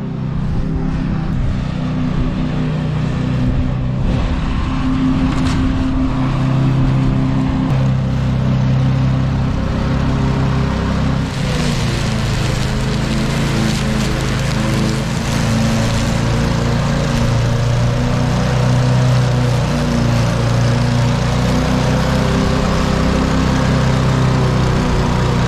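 A John Deere lawn mower engine runs at a steady, loud drone with a constant low rumble and slight shifts in pitch, close by throughout.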